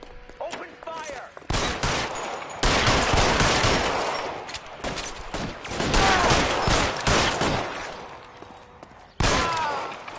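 Heavy, continuous gunfire in a loud 1940s Los Angeles shootout in L.A. Noire, with overlapping shots forming sustained bursts and a brief pause near the end before another volley erupts.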